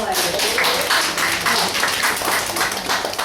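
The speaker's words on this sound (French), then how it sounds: "Super, on l'applaudit" An audience at a puppet show applauds after a song, loud dense clapping with a faintly rhythmic pulse and voices mixed in.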